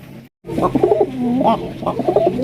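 Pigeons coo in a close, steady series of soft throaty calls, with one brief gap near the start. The birds are a pigeon pair with young, and no one speaks.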